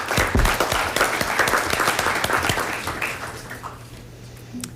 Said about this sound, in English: We'll do one more round of applause on our way out.